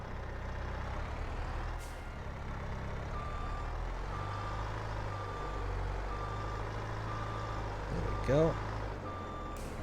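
A truck reverses a trailer into place in Farming Simulator 22, its reversing alarm beeping in a steady repeated pattern over a low idling engine, with a hiss of air brakes near the end and a voice speaking briefly.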